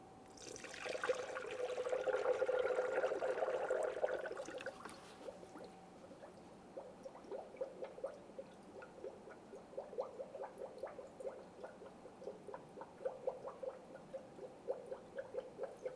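Coolant is poured into the cooling system of a 2008-2017 Mitsubishi Lancer, a close gurgling pour for a few seconds that gives way to quiet, intermittent trickles and drips.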